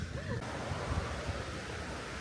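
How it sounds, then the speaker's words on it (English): Creek water fed by Kegety waterfall in Kyrgyzstan rushing along a snowy bank, a steady broadband wash close by, mixed with wind buffeting the microphone. "the water that comes from the waterfall comes down here into this beautiful creek"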